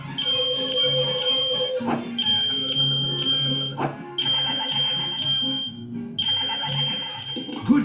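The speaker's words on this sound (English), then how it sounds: "You need to test your smoke alarms every month." Smoke alarm set off with its test button, a loud, piercing electronic tone that beeps repeatedly with short gaps, close and alone.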